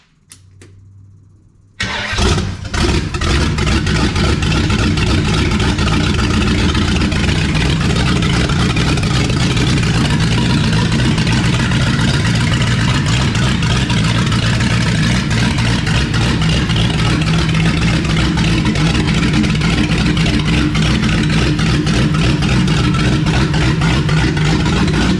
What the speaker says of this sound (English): Turn the pump on, turn the ignition on.